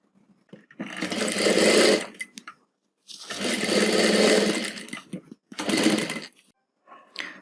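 Sewing machine stitching the bordered sleeve of a garment being shortened from long to short at home, running in three loud bursts with short pauses between them.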